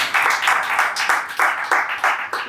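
An audience claps together in steady, dense applause, loud and close, with the rhythmic bursts of many hands filling the whole stretch and no talk over it.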